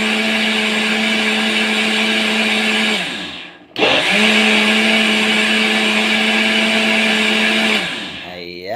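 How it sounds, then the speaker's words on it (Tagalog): A blender runs loud and steady, whirring through fresh milk, celery leaves, carrots and cucumber, cuts out briefly near the middle and then starts again at the same high speed. "i-blend na natin siya ulit palakas"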